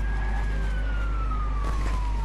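Police car siren in the video game Watch Dogs during a chase, a single wailing tone sliding slowly downward over steady engine and road rumble, loud and close.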